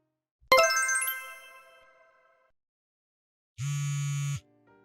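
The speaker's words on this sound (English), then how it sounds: "please pick up the phone" A phone sounds a bright chiming ringtone that rings out and fades, followed after a pause by a short buzzing electronic tone, clear and close with no voices.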